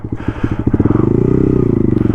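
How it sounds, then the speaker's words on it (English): Honda Grom motorcycle engine revved hard out of gear in snow with a worn clutch, a close, loud, rapid putter rising into a fast steady buzzing rev. "I'm like out of gear just fucking revving it right now."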